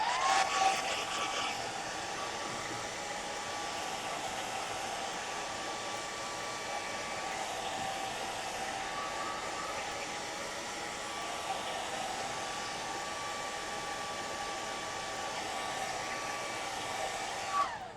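A hair dryer on its cool setting blows steadily across a gelli print, a continuous close whooshing roar that stays even throughout with no talking.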